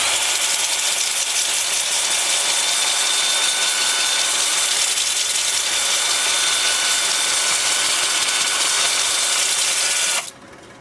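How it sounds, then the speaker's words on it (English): A steady, high-pitched mechanical whir of a wood lathe spinning in reverse at about 300 RPM runs continuously, then drops off sharply near the end. "Then with the lathe spinning in reverse at about 300 RPM."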